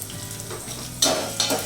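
Turmeric and asafoetida being stirred in a hot pan of oil for a Navratri prasadam dish, a steady close sizzle with scraping spoon strokes that swell into louder bursts of frying toward the end.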